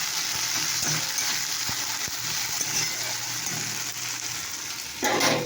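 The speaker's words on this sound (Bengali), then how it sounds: "আজকে দেখো ভেন্ডিটা প্রায় ভাজা হয়ে গেছে" Okra frying in oil in a pan, a steady bright sizzle with occasional stirring clicks, swelling louder near the end.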